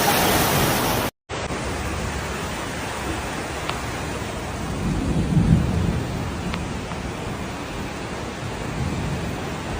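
Heavy torrential rain pours in a dense, steady roar during flooding in Guangdong and Guangxi, with low thunder rumbling beneath, broken by a brief cut near the start.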